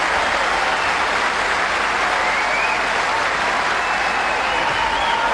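Steady, dense applause from a large tennis crowd at the Australian Open fills the stadium, loud and continuous without pause.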